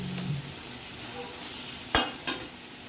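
Brinjal fries in a pan with a soft, continuous sizzle while a utensil stirs it, and two sharp metallic scrapes or clinks against the pan stand out near the end.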